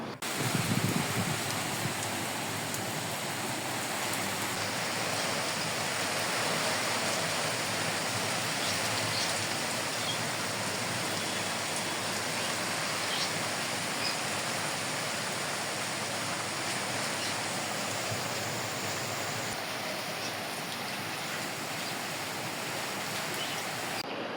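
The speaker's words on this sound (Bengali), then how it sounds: "আজকে ভোর রাত থেকেই বৃষ্টি হচ্ছে" Rain that has been falling since dawn hisses as a steady, even wash of noise for the whole stretch, with no talk.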